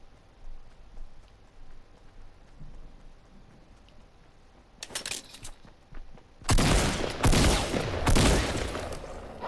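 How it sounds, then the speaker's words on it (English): Gunfire from players shooting each other in Fortnite Battle Royale. A short burst of distant shots comes first, then a louder, sustained barrage of rapid fire after a quieter stretch of game ambience. "They're shooting each other up."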